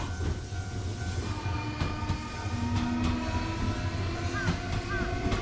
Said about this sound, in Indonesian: Orang pada nungguin kereta lewat.